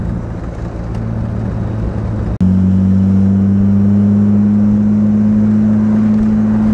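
A Jaguar SS 100 recreation driving up hills, its engine a loud, steady near rumble that drops briefly and then holds a strong sustained drone alone without voices.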